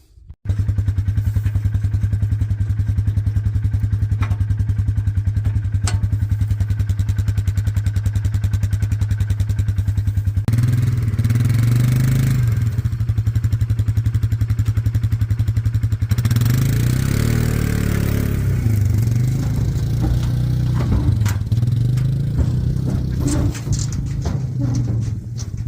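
A four-wheel-drive utility vehicle with a 1,300 pound pulling capacity hauls a trailer out of a hole, its engine droning loudly and continuously, then revving and straining in waves with clattering and thumps.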